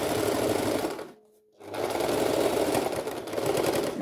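Sewing machine stitching the handles of a fabric eco bag, running steadily and loudly, pausing briefly for about half a second, then resuming its continuous whirring stitch.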